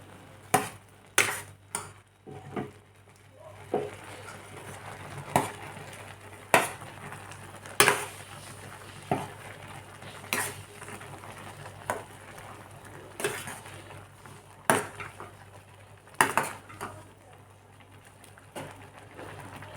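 Instant Yippee noodles are stirred with their masala in a pot, producing sharp intermittent clinks and scrapes of a utensil against the metal, spaced irregularly over a low background hum.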